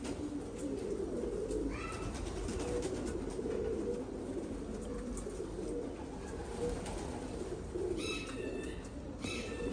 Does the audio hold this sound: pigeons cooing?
yes